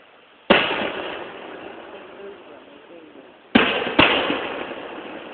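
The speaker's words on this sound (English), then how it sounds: "Publix hosts a fireworks display at the Braves Stadium" Firework bursts at a stadium display in Atlanta: a sharp bang opens the clip and trails into a long crackling decay, then two more close booms follow near the end, fairly loud against crowd murmur.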